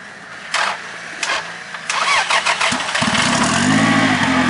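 An off-road buggy in a jungle rally stage cranks in several short starter bursts, then catches and settles into a rough, close, loud idle with uneven revving.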